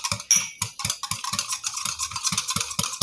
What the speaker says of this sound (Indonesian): aduk semua